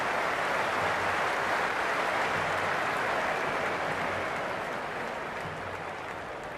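A large cricket stadium crowd during an IPL match between Royal Challengers Bengaluru and Sunrisers Hyderabad roars in a dense, continuous wash of cheering and applause, steady and loud throughout before easing slightly near the end.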